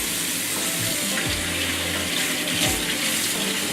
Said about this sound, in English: So you do want some hot water, and you do want to start with a reasonably clean sink.